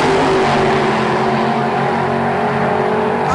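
Drag racing cars at Bug Jam 21 in 2007, the Ratfin Camaro lined up against an X-Pro modified Calibra, roaring with a loud, dense, continuous engine blare that holds steady throughout.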